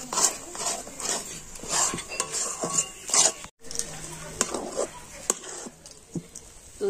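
Rice flour dough is stirred in a pan as it thickens into a stiff dough, giving irregular scraping and clinking taps of utensil against the pan, close and fairly quiet, with brief pauses.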